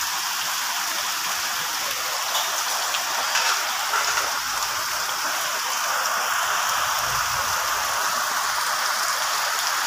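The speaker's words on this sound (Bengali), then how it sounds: "আজকে সকাল থেকে প্রচণ্ড পরিমাণে বৃষ্টি হচ্ছে।" Heavy morning rain pours down steadily on a rural village, a dense continuous patter of drops on surfaces with a faint trickle of running water beneath.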